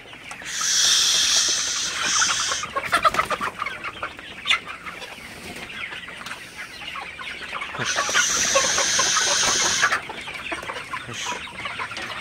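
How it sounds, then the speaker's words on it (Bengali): A flock of about 1500 Sonali chickens clucks and chatters continuously inside a poultry shed, some perched on bamboo, with dense overlapping calls and louder bursts of high hissing squawks close by. "তো এখানে আমার এই সেটে 1500 সোনালি আছে। তো আমার অন্য আরেকটা সেটে ওটাই 500 মুরগি আছে।"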